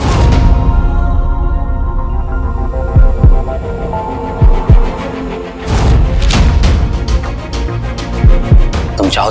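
Heartbeat sound effect in a Hindi TV drama scene, loud deep thumping pulses in paired beats repeating over a low throbbing hum, with no speech over it.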